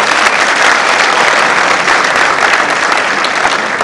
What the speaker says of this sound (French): je vous demande d'applaudir nos amis de l'IDPS